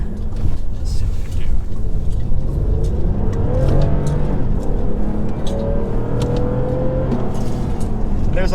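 A 2019 Toyota Avalon Limited driving a lap in manual shift mode, its engine a steady loud hum with rising and falling pitch as it accelerates and shifts, heard from inside the cabin.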